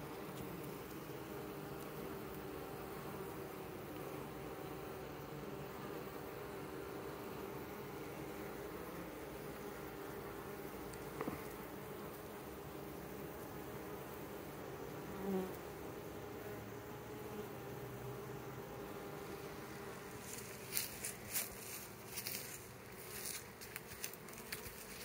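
Honeybees hum steadily around a tree-trunk beehive at an apiary, a soft continuous drone of many insects, with a few louder crackling bursts near the end.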